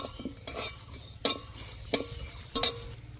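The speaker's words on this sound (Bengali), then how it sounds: "এবার দিয়ে দেব গোটা জিরে, 1 চামচ মতন।" Whole cumin seeds hit a pan while cooking, raising a few sharp scattered crackles and clinks over a low steady sizzle, close and fairly quiet, with no talking.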